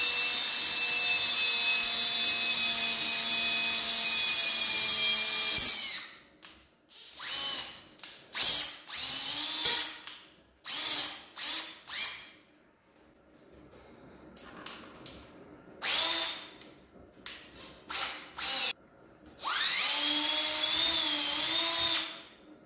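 A power drill whines steadily, then drills a pilot hole into wood in short bursts of grinding and spinning, stopping and restarting several times before a final long run.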